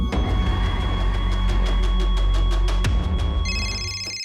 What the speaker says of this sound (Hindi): फोन तो अंदर बज रहा है।